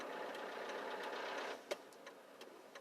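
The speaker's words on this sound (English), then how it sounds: "I think you guys hear that engine noise much louder than I do." A rickety old truck engine, overloaded with stuff in the back, drones with a rattling, ticking rumble that eases off partway, followed by a few faint clicks and knocks.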